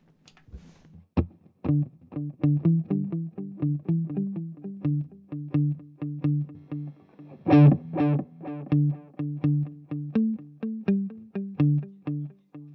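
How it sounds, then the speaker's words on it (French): Electric guitar through a Nux MG-30 multi-effects unit plays a repeating riff of plucked notes with a reverb-laden, slightly distorted tone and a washy tail, with one louder strummed chord midway. "Il y en a de la reverb."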